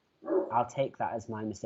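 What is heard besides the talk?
dog barking at neighbour's dog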